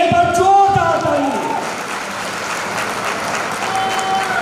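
Loud crowd applause at a Vedalex network marketing event in India greets the chief guest, a young direct-selling managing director. A voice and some tonal sound briefly overlap the opening before the clapping carries on as a broad, steady wash.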